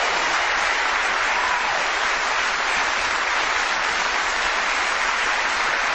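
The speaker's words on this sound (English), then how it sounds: "Give yourselves a round of applause" Theatre audience at a live show applauds, a loud, dense and unbroken wash of clapping that stays at constant strength for the full six seconds with no voices over it.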